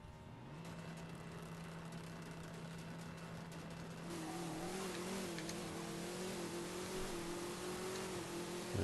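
A race car in the drag racing game Drag Racing No Limit 2 holds a steady engine drone that rises into a louder revving whine midway, faint and continuous with no talking.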